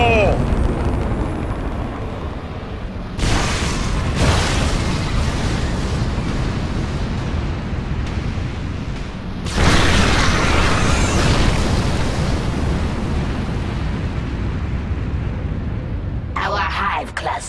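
A nuclear strike in StarCraft 2: Heart of the Swarm hits a Zerg hive cluster: a constant heavy rumble breaks into two loud roaring blasts, the second longer and fuller, before settling back to a low drone.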